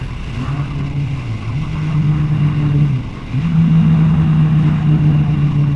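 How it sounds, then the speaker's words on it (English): A motorcycle engine accelerates in third gear through a fixed RPM range, a loud, steady, close droning hum that rises in pitch, dips briefly as the load changes, then climbs and holds again. "Now we'll try it in 3rd gear, same RPM range, and see what happens."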